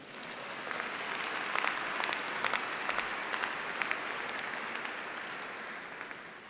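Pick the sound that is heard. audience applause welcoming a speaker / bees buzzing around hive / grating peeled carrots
audience applause welcoming a speaker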